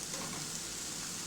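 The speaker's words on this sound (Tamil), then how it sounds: "இப்போ கொஞ்சம் தக்காளி ஆட் பண்ணிக்கலாம்." Onion, ginger, garlic and tomato fry in a pan, giving a dense, steady hiss of sizzling oil that fills the short stretch without speech.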